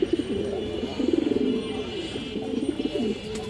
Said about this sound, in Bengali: পুরান জাতের ছাপচিলা কবুতর